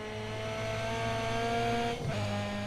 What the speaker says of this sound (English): I started spinning the wheels.